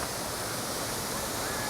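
El Chiflon waterfall in Chiapas, Mexico roars as a steady, dense wash of falling water, loud and unbroken throughout with no pauses.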